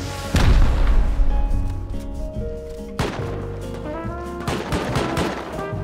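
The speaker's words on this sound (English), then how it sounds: "I'm gonna shoot the last one." Gunfire in the game Rust: a heavy opening blast, then separate loud shots and short bursts with ringing tails that keep repeating across the clip.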